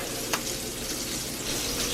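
Steady crackling sizzle of sausage frying in a hot cast iron pan, constant and close, with a brief sharper pop early on.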